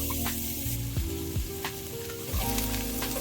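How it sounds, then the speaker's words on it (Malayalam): Coconut oil or ghee heating in a pan for a Kerala-style chicken stew gives a steady, close sizzle, with occasional light clinks and scrapes of a utensil against the pan. "ആദ്യം തന്നെ ഒരു പാൻ ചൂടാക്കി അതിലേക്ക് 2 ടേബിൾ സ്പൂൺ വെളിച്ചെണ്ണയോ അല്ലെങ്കിൽ നെയ്യോ ചേർക്കുക."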